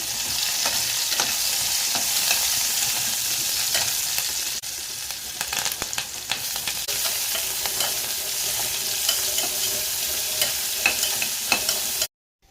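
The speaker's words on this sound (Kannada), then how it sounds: "ಈರುಳ್ಳಿ ಕರಿಬೇವು ಇದೆಲ್ಲದನ್ನು ಹಾಕಿ ಸ್ವಲ್ಪ ಫ್ರೈ ಮಾಡಬೇಕು" Onions, curry leaves and green chilies crackle and sizzle loudly in hot oil, a dense continuous frying hiss with scattered pops and stirring scrapes, cutting off abruptly at the end.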